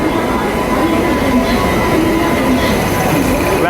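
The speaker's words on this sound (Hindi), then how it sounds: "अपने तय समय से almost 40 minute late yoga express आ चुकी है दिल्ली" A Yoga Express train pulls into Delhi Junction about forty minutes late, a steady, loud rumble of rail cars rolling along the platform with faint wheel squeal, no voices.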